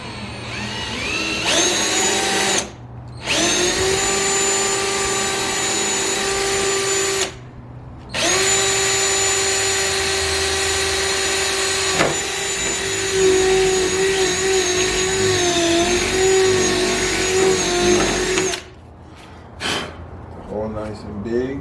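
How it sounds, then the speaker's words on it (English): Power drill boring holes during a Whickerbill installation on a 392 Dodge Charger, a loud steady whine running in three long bursts separated by short pauses, then a few brief taps at the end. "Now we're going to drill."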